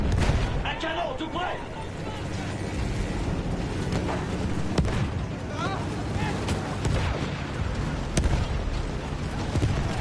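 Cannon and artillery fire boom out in the World War I shooter Battlefield 1, a dense, continuous battle din with repeated blasts and explosions, some sharp reports standing out over the constant rumble.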